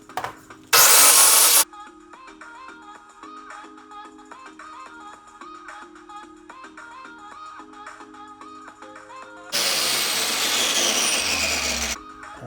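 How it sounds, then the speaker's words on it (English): A power drill grinds down an LS engine fuel injector in loud bursts, one short harsh whine near the start and a longer gritty grind near the end, with quieter scraping and handling noises between. "now, I'm gonna try to grind it. Grind it down using the drill."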